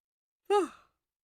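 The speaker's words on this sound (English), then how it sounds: "I don't know why I was yawning there." A single short yawn or sigh exhaled by a person, close to the mic and brief, falling in pitch before quiet.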